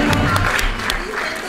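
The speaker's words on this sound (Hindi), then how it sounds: "Please clapping clap for her." An audience at a bridal makeup demonstration in Islamabad Club claps, a fairly close, steady patter of applause with a few sharper claps and faint crowd murmur underneath.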